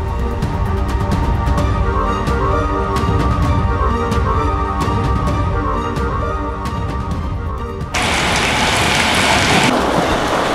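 Heavy rain with thunder, a steady, loud downpour hissing throughout under a layer of other sound, then swelling into a dense, rushing roar for the last few seconds.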